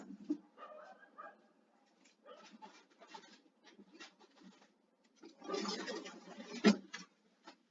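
Outside an open window, a dog gives a scattered series of short, irregular barks and yips, mostly faint and distant, with one louder cluster of barking near the end.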